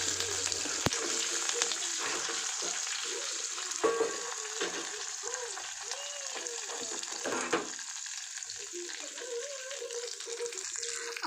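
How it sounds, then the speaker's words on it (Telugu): Onions and green chillies sizzle in hot oil in a pan for Telangana-style sambar, a continuous crackling fry with intermittent scraping stirs and a few clinks, heard alone without speech. "గ్రీన్ చిల్లీస్, ఇవి వేగిన తర్వాత ఆనియన్స్ వేసుకోవాలి"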